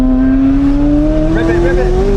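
A McLaren supercar accelerates hard, its engine note climbing steadily in pitch under load, loud and close throughout, with a sharper whining edge joining in toward the end.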